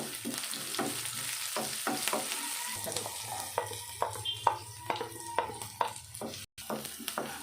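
Grated ginger and garlic with green chillies sizzle steadily in hot oil, joined midway by a run of sharp, rhythmic stirring taps and scrapes against the pan.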